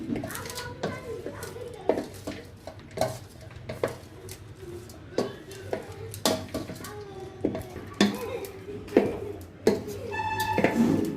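A spoon scraping and clinking against a pot while tamarind pulihora rice with salt and tamarind juice is stirred together, irregular metallic taps and scrapes at close range over a soft room background.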